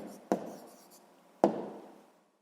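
A pen or marker writes the numbers of a sixth-grade math answer, giving two short, sharp scratching strokes about a second apart, each fading quickly in a quiet room.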